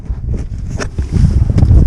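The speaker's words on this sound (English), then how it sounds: "A bit windy here." Gusty wind buffets the microphone outdoors beside a Honda car being worked on, a steady low rumble that swells louder toward the end, with no talking.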